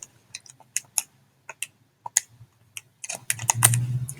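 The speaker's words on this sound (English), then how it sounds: "when you type this into the calculator" Quick uneven plastic clicks of calculator buttons being pressed close by, scattered single taps speeding into a denser run at the end.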